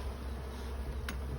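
A steady, low buzzing of honey bees close by while a swarm is moved into a hive, continuous and even, with a brief faint click near the end.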